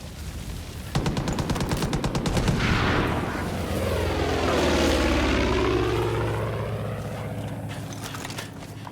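Aircraft strafing run in the video game Far Cry 5, a loud propeller drone sweeping past with rapid machine-gun bursts at the start, swelling and fading as the plane passes close overhead, with no voices.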